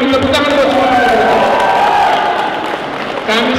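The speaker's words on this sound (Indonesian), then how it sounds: "Tepuk tangan buat semua partai politik." A crowd at an NTT 2024 governor election victory gathering applauds and cheers for the political parties, a dense continuous roar with a voice over a loudspeaker on top.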